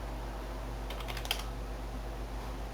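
Someone types text on a computer keyboard, a quick short run of soft key clicks over a low steady hum.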